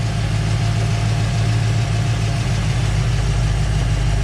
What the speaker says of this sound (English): here you can hear the engine